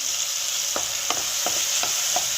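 Eggplant frying in oil in a pan for vangi bath, a steady loud sizzle with a spoon stirring in a regular rhythm of soft scrapes, close up and without talk.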